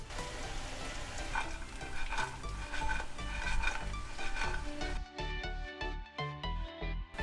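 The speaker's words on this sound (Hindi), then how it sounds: "अब ये डीप फ्राई वाले पनीर को मैं ऑयल में डाल देती हूँ" Paneer cubes sizzle and crackle as they deep fry in hot oil, with a busy, loud bubbling hiss and occasional stirring scrapes that drop suddenly to a quieter, sparser fizz near the end.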